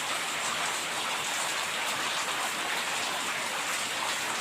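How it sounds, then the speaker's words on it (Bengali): Heavy rain pours down in a dense, even hiss of falling drops, continuous and moderately near, with no voices. "কখন বৃষ্টিটা থামবে বুঝতে পারছি না"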